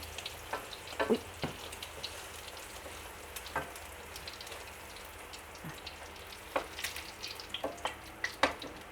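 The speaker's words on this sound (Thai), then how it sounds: "ทอดมันปลา สร้อยค่ะ เริ่มจะสุกแล้วนะคะเพื่อนๆ" Thai soi fish cakes (tod man) frying in a pan of hot oil, a steady soft sizzle broken by scattered crackles and pops, close by and fairly quiet with no talking.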